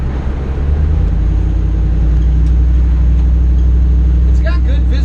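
A 1960 Metro van with a Hemi engine and all-wheel drive rolls along the road, heard from inside as a steady low engine drone and road rumble, with a voice briefly near the end.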